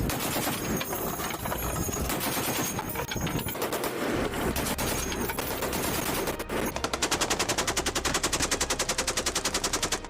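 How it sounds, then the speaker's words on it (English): Deck-mounted machine guns and small arms from US Navy ships fire at close range on Somali pirates at sea: loud, dense, continuous gunfire, settling into rapid, evenly spaced bursts near the end. "The American ships return fire with deck-mounted machine guns and small arms"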